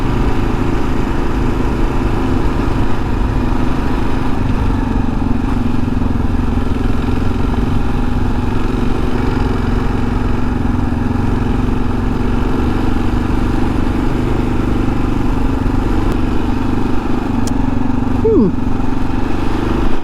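A Kawasaki KLR650 engine while riding, a steady loud single-cylinder drone with rumbling low throb and constant wind noise throughout, close up, with a brief pitch sweep near the end.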